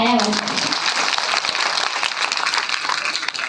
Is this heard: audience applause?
yes